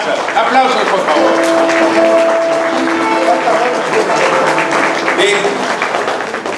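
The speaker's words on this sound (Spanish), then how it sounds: "Aplausos, por favor." Loud, sustained applause from an audience after a guitar quartet is introduced at a book presentation, a thick wash of many clapping hands with a held guitar tone ringing faintly through it.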